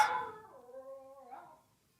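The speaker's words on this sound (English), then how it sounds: "I love hearing dogs." A single dog lets out a high, wavering whine that slides down into a drawn-out howl-like whimper, close and fairly clear, and then fades to silence.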